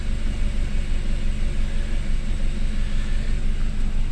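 A rebuilt engine in a long-neglected BMW idles close by with an even, continuous low rumble and a faint rhythmic pulse, loud and steady with no talking.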